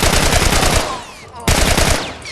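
Rapid automatic gunfire from a weapon in The Last of Us video game, a loud burst of sharp shots, a short pause, then another burst.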